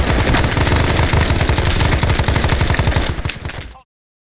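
Sustained machine gun fire in the SOG: Prairie Fire video game, a loud, rapid, continuous rattle of close shots lasting nearly four seconds before cutting off abruptly.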